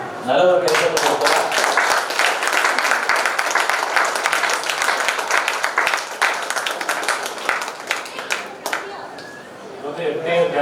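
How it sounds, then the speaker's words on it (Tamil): A large audience breaks into loud, sustained applause, dense clapping that thins slightly near the end before swelling again, with faint chatter underneath. "நல்ல ஒரு கைத்தட்டல் கொடுப்போம்."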